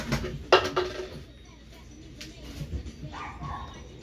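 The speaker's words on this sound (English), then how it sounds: "sorry about that fucking dog, man. Keep barking." Indoors, a dog gives a few short barks and yips at the start, followed by quieter whimpering, with faint background clatter and a person talking.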